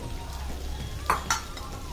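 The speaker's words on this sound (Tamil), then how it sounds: "நம்ம வெட்டி வச்ச காய்கறியெல்லாம் ஒன்று ஒன்றா எடுத்து போடணும்" Chopped capsicum, carrot and cabbage tipped into a hot pan for a vegetable gravy, a steady sizzle with two brief clinks and scrapes of utensil on metal.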